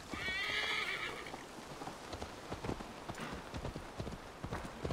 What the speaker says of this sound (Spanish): Venga, pues vamos a llamar al caballo.